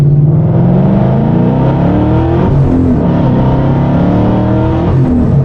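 A car fitted with drag radials runs on the road in second gear, its engine droning loud and steady from inside the cabin with rising and falling tones throughout.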